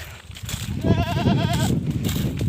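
A goat bleats once on a farm, a wavering, quavering call lasting under a second, heard fairly close over steady outdoor background noise.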